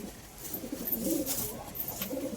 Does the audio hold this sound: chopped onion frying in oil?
no